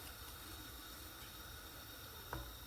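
Salted fish and leeks simmer in a pot with a steady, soft hiss of bubbling and steam. The sound stays faint and continuous, with one small pop near the end.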